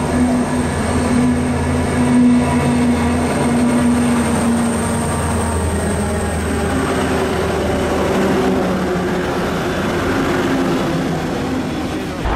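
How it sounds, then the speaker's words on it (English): Freight trains rumble steadily through the Adelaide Hills, coming down from Murray Bridge, a loud, continuous rolling roar of wagons on rails with faint squealing tones, heard alone at close range. "This is the freight trains coming down from Murray Bridge through the Adelaide Hills."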